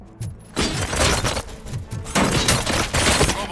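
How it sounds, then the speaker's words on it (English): Bursts of gunfire crack out in a RoboCop Rogue City shooting scene, rapid overlapping shots and impacts fairly loud throughout. "Gunshots?"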